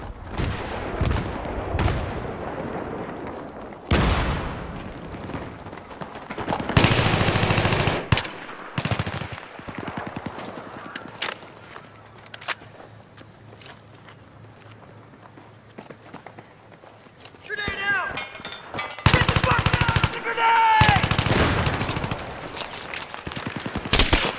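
An M416 assault rifle firing in Battlefield 3, in loud bursts of rapid automatic fire separated by quieter stretches with faint footsteps and movement. No voices are heard.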